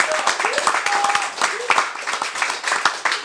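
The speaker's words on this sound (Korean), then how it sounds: "박수 한번." A seated audience at a talk-style gathering of partner-dance enthusiasts claps in a short burst, uneven and moderately loud, with a few scattered stronger claps and a little background voice.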